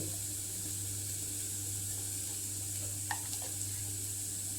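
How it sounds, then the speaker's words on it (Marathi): Crumbled leftover chapati with salt, asafoetida and vegetables sautés in a pan, a soft continuous sizzle with a low hum and a couple of faint clinks from stirring. "चपाती शिळी असेल तर हे व्यवस्थित असं आता परतवून झालं"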